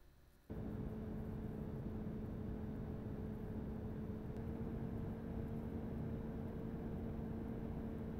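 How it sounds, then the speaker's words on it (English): Cooling fan of an ACEMAGIC AM18 mini PC running at a steady, fairly quiet, lower-pitched hum with a faint tonal whine, starting just after a brief quieter moment and continuing evenly with no talk. "ACEMAGIC's AM18 is definitely on the lower side of the fan noise chart."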